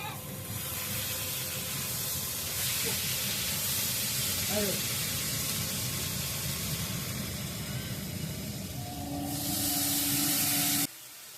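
Onion, chili and ginger paste frying in a pan, giving a steady broadband sizzle and hiss that runs through the whole stretch with little change, loud and close, ending abruptly near the end.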